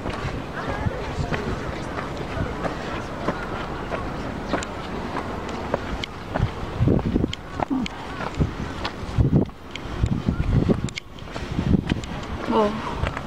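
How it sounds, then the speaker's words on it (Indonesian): Strong gusty wind buffets an open green park at the Tokyo Imperial Palace grounds, a steady roar with louder rushing bursts toward the end, while people talk nearby. "Tuh anginnya nak keras."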